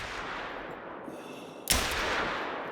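A single sharp .243 handgun shot in theHunter: Call of the Wild rings out at long range, its crack followed by a sustained ringing tail over a steady outdoor ambience.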